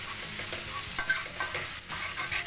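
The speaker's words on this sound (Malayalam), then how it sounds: "അപ്പോൾ നമുക്കതൊക്കെ നന്നായി മിക്സാക്കി കൊടുക്കാം" Mushroom roast, Kerala style, stirred in a frying pan: a steady sizzle under soft scraping strokes of the spoon, close and continuous, with no voices.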